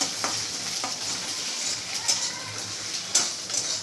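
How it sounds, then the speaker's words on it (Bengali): Egg frying and being scrambled in a pan, a steady hiss of frying oil punctuated by sharp scraping and tapping of a spatula breaking up the egg, close and moderately loud. "দেখো বন্ধুরা ডিমটা সুন্দরভাবে এভাবে দেখো ফ্রাই হয়ে গেছে, আর সুন্দরভাবে একদম ঝুড়ি ঝুড়ি করে নিচ্ছি।"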